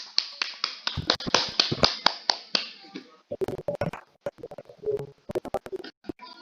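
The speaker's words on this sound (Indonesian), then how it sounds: "tepuk tangan untuk Bu Maria." A small group claps for a peer teacher during a classroom peer-teaching session. The claps are sharp and uneven, a scattered flurry that thins out, starts again, and then fades to a few last claps.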